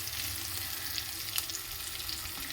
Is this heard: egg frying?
yes